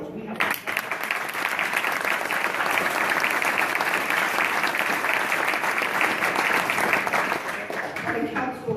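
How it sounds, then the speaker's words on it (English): An audience applauds during a city council president's acceptance speech in Mount Vernon. Broad, steady clapping starts sharply and carries on with little change, then eases slightly toward the end. "So round of applause."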